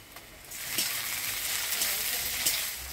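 Chopped onion and tomato frying in hot oil with whole spices, a steady broadband sizzle that swells after the first half second and holds evenly, with a few faint clinks, and no talk.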